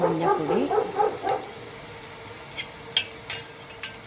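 A dog barks a few times in the background of a home kitchen while squid curry is cooked, with oil sizzling and a spoon stirring in a pan throughout.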